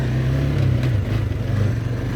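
A four-wheeler ATV engine revving on the throttle, a loud, steady mid-pitched motor drone that swells slightly and holds, close and alone without talk.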